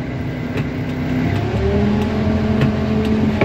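New Holland W50C wheel loader engine idling and settling down after throttle is released, a steady low rumble with a faint rising whine, close and continuous.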